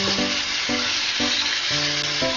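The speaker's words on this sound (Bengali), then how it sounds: "ভালো করে মিশিয়ে নিচ্ছি।" Bitter gourd and potato pieces being stirred with turmeric, salt and sugar in a frying pan, giving a steady sizzle broken by repeated scraping strokes of the spoon, close and continuous with no voices.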